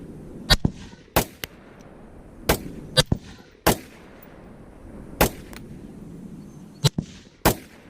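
Sharp rifle shots from a 6.5 Grendel at an outdoor pit, eight or so loud cracks spaced unevenly about a second apart, each with a brief echoing tail over quiet background.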